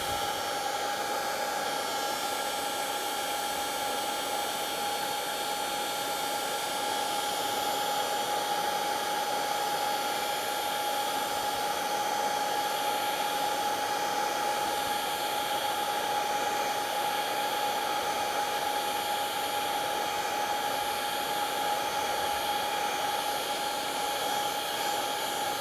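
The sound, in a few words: heat gun drying wood on a turned whiskey tumbler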